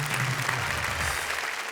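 Audience applause for a poem recited on a Hindi comedy stage show, a steady wash of clapping filling the short stretch at even loudness, with a low hum underneath.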